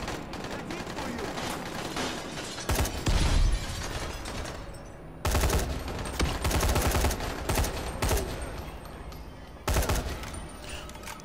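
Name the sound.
gunfire in video game Dying Light 2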